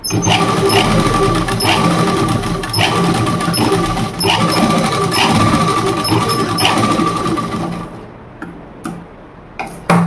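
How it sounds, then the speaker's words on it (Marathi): A sewing machine stitches a double seam on a prince cut blouse, running loud and close with a rapid mechanical rattle for about eight seconds before stopping, followed by a few clicks. "त्याच्यावर आपण आणखी एक डबल शिलाई लावून घेणार आहोत"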